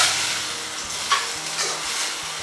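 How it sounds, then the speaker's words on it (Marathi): Chopped leafy vegetables for a festival bhaji sauté in a pan: a continuous close sizzle broken by a few scraping stirs and soft knocks of the spatula, with no voices. "आता ही व्यवस्थित परतवून घ्यायची एकदा सगळ्या बाजूंनी"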